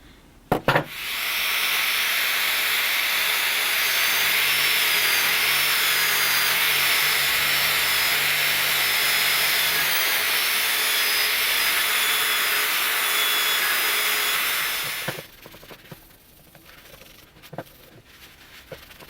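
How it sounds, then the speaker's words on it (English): A bench-mounted wire wheel, then a polishing wheel, is worked against rusty patches on cheap flea-market pliers, a loud continuous whirring grind lasting about fourteen seconds before the motor cuts and spins down, leaving a few faint clicks. "give this little patch of rust and this patch of rust there a very gentle touch on the wire wheel, and then we'll get the polishing wheels on"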